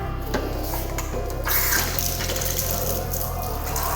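Water runs from a tap as hands and feet are washed beneath it, a loud close continuous splash and gush with shifting spatter and no speech.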